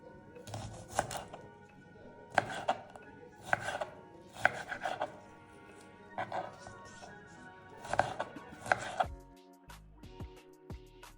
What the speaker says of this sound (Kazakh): Осылай жіңішкелеп турап, салатымыздың құрамын жинай береміз.